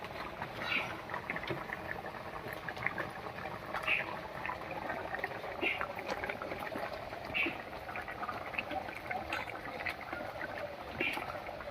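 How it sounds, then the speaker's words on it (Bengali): Fish curry with gati kochu (taro) and china punti fish bubbling at a boil in a pot, a steady low burble with soft, repeated popping bubbles throughout. "রান্নায় বলক উঠে গেছে"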